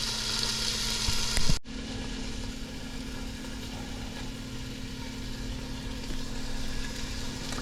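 Curried oxtail stew simmering and sizzling in a pot, a steady close bubbling hiss that holds evenly throughout after a brief louder clatter near the start.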